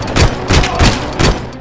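Pistol fire in RoboCop Rogue City, four loud, heavy shots at an even rhythm, each a sharp close blast with a short booming tail.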